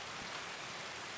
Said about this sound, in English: Can't hear a dang thing, except for my own voice and, well, rain.